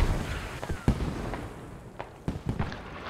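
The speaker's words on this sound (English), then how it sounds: "Mortars are now dropping on top of it." A mortar barrage lands in a military video game, with several heavy explosions thudding at irregular intervals, some sharp and close, others deeper and rumbling, over a continuous low background roar.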